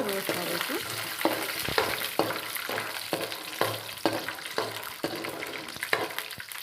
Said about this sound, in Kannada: ಬಾಡ್ಸೋಣ ಇವನ್ನ. ಹಂಗೆ ಎಣ್ಣೆಯಲ್ಲಿ ಚೆನ್ನಾಗಿ ರೋಸ್ಟ್ ಆಗಬೇಕು.